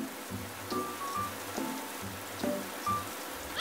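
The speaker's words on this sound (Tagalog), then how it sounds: "inaantok talaga ako sa tunog ng ulan" Rain falls steadily in a Filipino animated scene, a soft, even patter on a surface with occasional louder drips breaking through, heard alone without voices.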